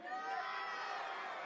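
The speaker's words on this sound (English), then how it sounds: "The crowd is getting loud behind you." A rodeo crowd at a PBR bull riding event in Mackay, Australia, cheers and whoops loudly in a sustained roar, with children shouting among the voices.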